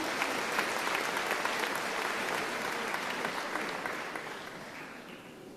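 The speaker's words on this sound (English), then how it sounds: "let us give Professor Ngowi a round of applause as he welcomes us." An audience at a school matric results celebration applauds Professor Ngowi, a broad sustained wash of clapping from many hands that gradually fades near the end.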